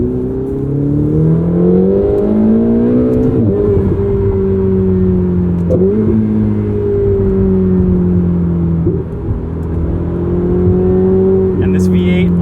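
A 2016 Ferrari 488 GTB V8 revving hard from inside the cabin while driving, its loud engine note climbing and falling through several gear changes with a steady sweeping pitch.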